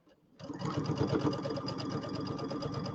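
A sewing machine with a new foot controller starts up and runs steadily at speed, its fast, even mechanical whirring and stitching loud and close.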